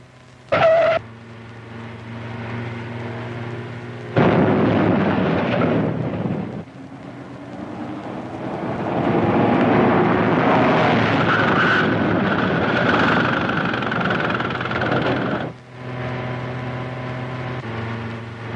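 A 1940s car speeds along with a steady engine roar rising and falling, broken by brief gaps and sharp bursts, heard close and fairly loud with no talking.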